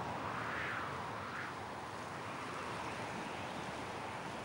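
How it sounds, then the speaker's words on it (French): Violent wind blowing without letup across the Patagonian steppe, a constant loud broadband roar with buffeting gusts and no voices. "Un vent violent qui souffle sans discontinuer."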